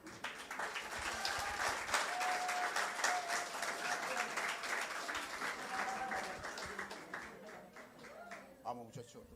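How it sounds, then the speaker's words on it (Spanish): A church congregation in Surquillo, Peru applauds after a testimony during an evening service, steady crowd clapping lasting most of the clip with faint voices and a held tone underneath, tapering off toward the end. "un aplauso para él."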